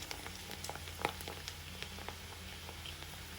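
Raw chana dal frying in hot oil, a faint steady bubbling and crackling patter with scattered small pops, close and continuous with no talk.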